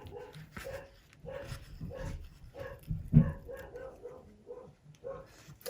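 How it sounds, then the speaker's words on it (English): A pet dog barks at the postman from somewhere in the house, a series of muffled, moderately distant barks and yips spread irregularly across the stretch, fairly faint. "And that is my dog barking."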